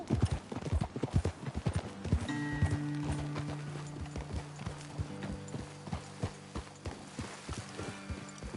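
Steady clip-clop of horse hooves at a walking pace in Red Dead Redemption II, close and rhythmic, with a low droning tone running underneath for much of the time.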